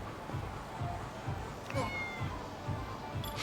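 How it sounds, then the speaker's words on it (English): A cat meows in the video game Lost Judgment, with a series of short, evenly spaced meows that sit low under a faint background ambience. "I hear kitty cat."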